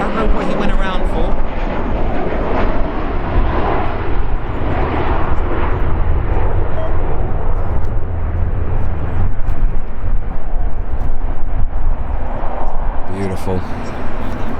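A Ryanair jet climbs away after a go-around at Stansted Airport, a loud, sustained engine roar heard fairly close and mixed with wind noise and talk.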